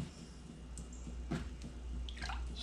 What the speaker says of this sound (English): Stir that up just a little bit.